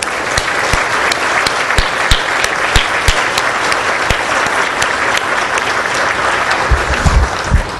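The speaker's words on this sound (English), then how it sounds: "Could you all please stand so we can give them an applause" Sustained audience applause at an academic talk for standing team members, loud and steady throughout, with individual sharp claps standing out near the front.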